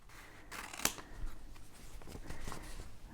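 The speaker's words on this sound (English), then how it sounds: "I'm going to go ahead and use a pair of scissors to cut that away." Scissors snipping through a brown paper bag during a junk-journal craft project, a few close, crisp cuts and rustles of the paper, quiet and with no talking.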